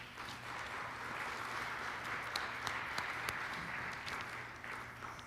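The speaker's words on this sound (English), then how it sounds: "let's give him a little round of applause" An awards banquet audience gives a welcoming round of applause, a steady wash of clapping heard from a distance at moderate volume, with a faint hum running underneath and a few sharper claps near the end.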